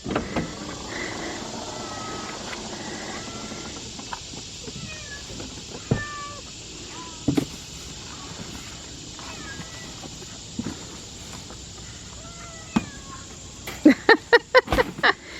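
Two cats meow repeatedly while being loaded into a car, scattered plaintive cries over a steady background hum, ending in a burst of rapid clicks or bumps.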